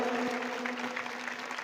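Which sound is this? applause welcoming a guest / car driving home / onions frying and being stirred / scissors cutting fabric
applause welcoming a guest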